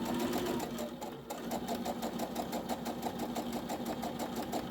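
A sewing machine runs steadily while stitching around the top of a fabric tote bag, its needle producing a fast, even mechanical chatter that pauses briefly before resuming, close and loud with no talking.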